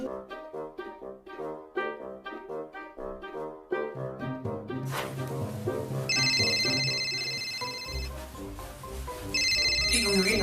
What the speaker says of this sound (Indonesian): telepon euy